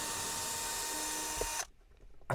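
A power drill backs screws out of a board inside a Citroen Relay camper van, giving a loud, steady whine that cuts off abruptly after about a second and a half, followed by a brief quiet handling noise.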